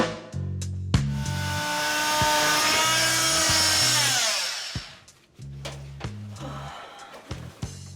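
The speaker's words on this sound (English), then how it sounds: "Now that I've broken the grout lines with the power tool" Power tool grinding through grout lines between bathroom wall tiles during a remodel: buzzing, whining bursts that start and stop, with one long sustained high whine in the middle that sweeps down in pitch before the tool cuts out and restarts.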